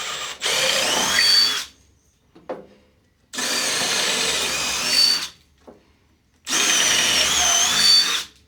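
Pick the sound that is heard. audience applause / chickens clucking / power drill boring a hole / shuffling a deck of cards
power drill boring a hole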